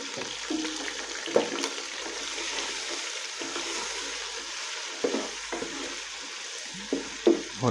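Steady sizzling of garlic ginger paste frying in a pan, with occasional scrapes and stirring knocks from a utensil, close by and continuous.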